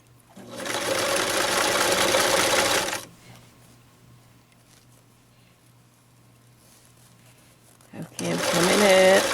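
Sewing machine stitching a tube scarf seam, a loud fast rattling whir in two runs separated by a quiet pause, with a person talking throughout.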